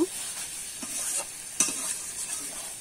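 Banana flower curry with ghee and garam masala stirred in a pan, a soft steady sizzle with a few light scraping strokes of a spoon, close and quiet, no talk.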